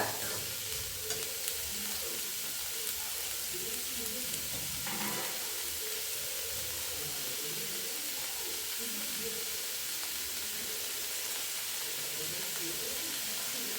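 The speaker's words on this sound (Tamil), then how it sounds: "இப்போ இதை நல்லா வதக்கி நம்ம எடுத்துக்கலாங்க" Ingredients for adai dosa sizzle and fry steadily in a hot pan as they are sautéed, a dense continuous hiss with occasional faint stirring scrapes. A voice is heard faintly now and then under the frying.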